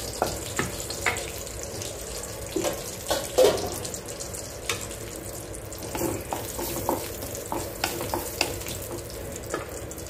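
Cashews frying in a pan for bottle gourd halwa make a steady soft sizzle, with scattered crackles and stirring clatters throughout. No one speaks.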